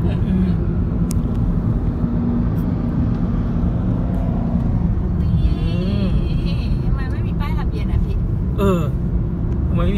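A Ferrari overtakes a Honda City on the road, heard from inside the Honda as a steady engine and road rumble with brief rising whooshes as it passes, under conversation.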